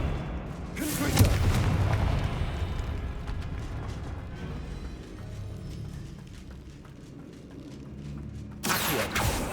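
A Confringo blasting spell in Hogwarts Legacy lands as a loud booming blast followed by a rumbling decay, and a second sharp blast comes near the end.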